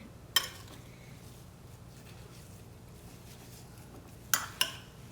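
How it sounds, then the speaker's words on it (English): A spoon stirs an apple, blackberry and walnut crumble mixture in a bowl. It makes soft scraping under a quiet background, with a sharp clink near the start and two more clinks near the end. "now we're gonna start stirring it all in"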